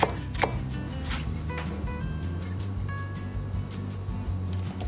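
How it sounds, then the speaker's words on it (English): A knife chops the white part of a green onion on a board, a quick, irregular series of sharp taps close by, steady and fairly loud with no talk. "I'm gonna chop up the white part of a green onion"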